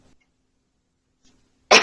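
A single sharp, loud cough bursts out at the end after near silence, with a faint breath or murmur earlier.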